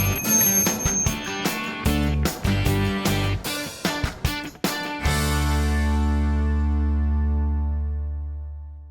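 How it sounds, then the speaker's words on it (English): A bell is struck in a quick, uneven run of ringing hits, then a final strike rings out loud and sustained, fading slowly over several seconds. "Just listen for the bell"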